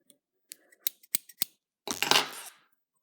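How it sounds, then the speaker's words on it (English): Scissors snip at excess black silk in a quick series of crisp, close metallic clicks, then a brief rustling swish of fabric. "with these funky scissors I have, I'm just going to quickly trim any excess black silk"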